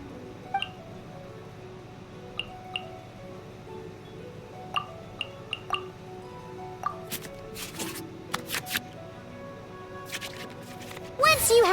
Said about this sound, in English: we can select any number of cards in our hand to shuffle back into the draw pile, and then draw the same number of new cards